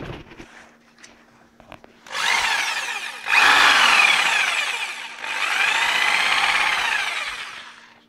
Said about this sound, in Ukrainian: Давайте включимо, подивимося, як воно працює.